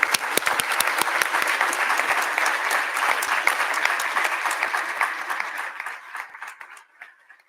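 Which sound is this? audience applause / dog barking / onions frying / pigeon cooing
audience applause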